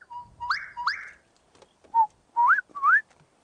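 A person whistling an imitation of a bird call on a safari drive, a few rising whistled notes in two groups, clear and close, with faint background rumble between.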